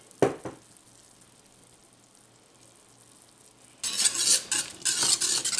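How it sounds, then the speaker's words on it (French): Milk being stirred into a thick butter and cornstarch paste inside a Cookeo multicooker, with a couple of early utensil knocks, a quiet pause, then steady close scraping and sloshing for the last couple of seconds. "on mélange pour essayer de faire des grumeaux"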